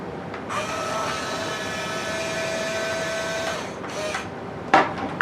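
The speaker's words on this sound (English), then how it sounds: "I'd really like to take a look at what's going on inside there when that gear starts to grind like that." Gears grind inside a kolegend 1:14 scale remote control excavator toy: a steady, buzzing mechanical whir holds for about three seconds, then breaks into short grinding bursts and clicks, heard close with no voices.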